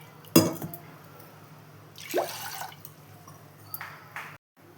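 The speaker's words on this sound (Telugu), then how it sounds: "ఆ గ్లాసుతో ఒక రెండు గ్లాసుల వాటర్ని తీసుకోవాలి" Water poured from a glass into a pressure cooker, heard as a few separate splashing pours with short gaps between them, close and fairly quiet, with no talk.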